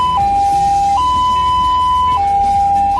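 An ambulance siren cycles through a steady two-tone pattern resembling a railway crossing bell, high and low pitches alternating about once a second, loud and close throughout.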